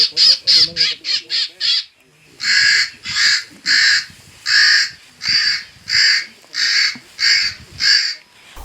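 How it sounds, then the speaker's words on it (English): A solar-powered bird repeller on a sorghum farm blares recorded crow caws, a quick run of six short calls then a slower series of longer, harsher caws, loud and close. "a machine powered by solar and programmed to produce different sounds of birds from time to time"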